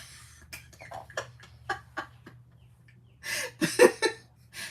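Backyard chickens clucking in short, spaced calls, fairly close, then a louder cluster of squawky clucks near the end over a steady low hum.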